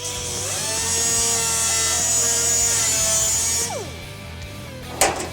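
A steady, high-pitched power-tool whine grinding through Hurst Oldsmobile sheet metal for several seconds, then winding down, followed by a brief sharp clank.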